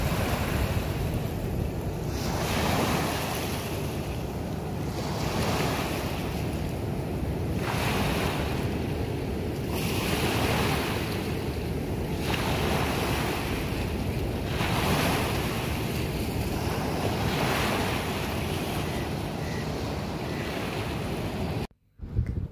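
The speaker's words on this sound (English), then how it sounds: "Do listen to this wave sound," Ocean waves roll onto an island beach in slow regular surges, a loud continuous wash of surf with wind noise buffeting the microphone.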